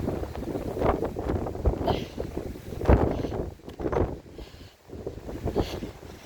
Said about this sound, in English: the gust of wind just took it